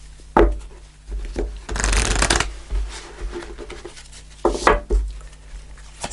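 Angel answer cards being shuffled, a dense papery riffle of about a second near the middle, with soft handling taps and brushes before and after and no talking.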